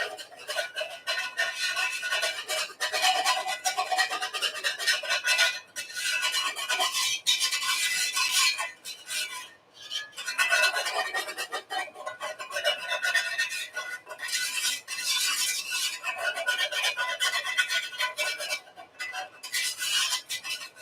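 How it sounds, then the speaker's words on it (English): A metal utensil scrapes and stirs in a 14-inch cast iron Dutch oven as flour is worked into gravy, making a continuous harsh rasping with rhythmic strokes and short breaks, loud and close, with no talking. "if you didn't like the sound of metal scraping before, you probably wouldn't like it now"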